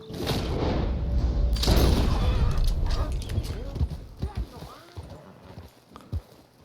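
A horse's hooves clip-clop in the video game Red Dead Redemption 2, a brisk rhythmic trot of hoofbeats under someone talking, with a loud burst early on and the steps thinning out toward the end.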